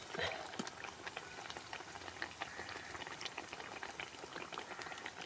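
Food boiling in a pot during village cooking: faint, continuous bubbling and crackling with scattered small pops, steady and distant, with no speech.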